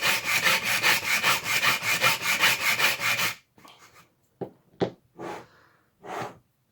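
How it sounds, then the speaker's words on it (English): A hand file rasps against a pinball knockout part in steady, rapid back-and-forth strokes for about three seconds, loud and close, then stops and gives way to a few brief, scattered handling scrapes and knocks. "when you're filing on this part of the knockout, you want to make sure that the corner of your file doesn't wander too far backwards"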